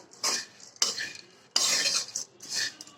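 Flattened rice frying in oil with cumin is stirred in a pan over medium heat, giving four close scraping and rustling bursts separated by short pauses, with a faint sizzle underneath.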